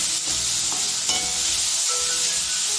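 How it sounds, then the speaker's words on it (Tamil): Onions fry and sizzle in a hot pan for prawn thokku, a steady loud hiss with occasional stirring scrapes running continuously throughout. "ஆனியன் வந்து நல்லா ஒரு கோல்டன் ப்ரௌன் வர வரைக்கும் வதங்கணும்"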